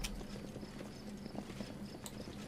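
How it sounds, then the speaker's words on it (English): Horses clip-clopping in the fantasy role-playing video game Pathfinder Kingmaker, quiet steady hoof clatter with faint ambient game sounds behind it and no speech. "we've got a bunch of horses"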